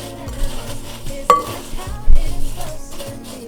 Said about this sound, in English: Just give it a little mix.